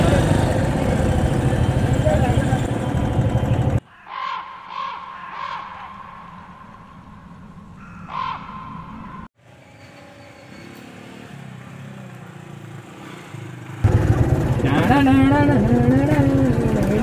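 A motorcycle engine runs loud and close at the start, drops out through a quieter middle where crows caw, then returns loud near the end, with voices heard in between.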